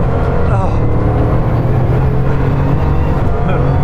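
Bugatti Chiron Pur Sport accelerating hard on a race track, a loud, sustained engine roar filling the whole stretch with a continuous dense drone.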